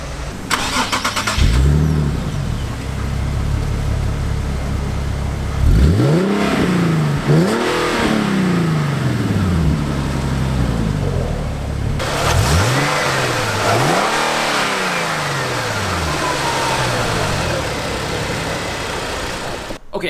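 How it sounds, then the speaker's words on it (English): A 2017 Nissan 370Z Nismo engine starts up and settles into a steady idle, then revs up sharply several times in a row, each rise and fall loud and close. "But let's start up this engine here."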